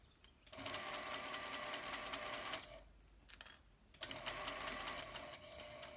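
A sewing machine stitches along the seam of a fabric face mask, a steady fast mechanical whir that pauses briefly midway, then resumes, close and alone.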